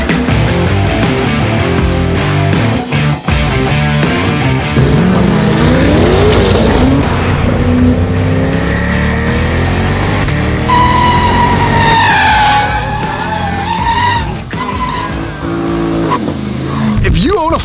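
A 2020 Chevrolet Corvette C8 launching under launch control, its engine roaring and climbing through rising revs with shifts and tire noise, loud and close, with voices talking over it.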